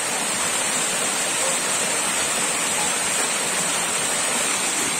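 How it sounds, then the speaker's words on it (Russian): Steady, loud rushing water fills the whole clip, a constant broadband roar like a nearby river with no pauses or voices. "За нами шумит река."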